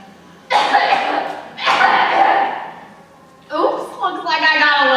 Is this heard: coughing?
yes